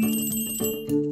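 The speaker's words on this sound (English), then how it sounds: "Let's play with the colorful Christmas bells." Colorful Christmas bells ring in a short bright burst, two or three clear metallic chimes close up with no talking.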